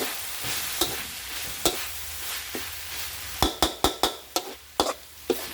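Stir-frying in a wok: a steady sizzle with sharp scraping clanks of the spatula, sparse at first then quicker in a run of strokes, cooking dried field-rat meat with chilies and kaffir lime leaves.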